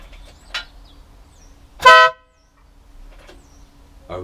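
An aftermarket motorbike horn bought on eBay gives one short, loud blast, close up, with a fainter honk before it and quiet surroundings afterwards.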